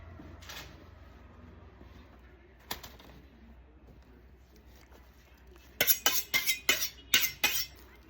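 A knife slicing pork butt on a board for adobo, with a few sparse clicks early on, then a run of sharp, close chopping knocks near the end over faint background hum.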